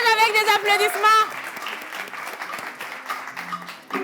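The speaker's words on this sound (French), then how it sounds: "On les encourage avec des applaudissements" Applause and cheering from a crowd at a live event, starting under a voice that rises in the first second, then continuing as a lighter, scattered clapping to the end.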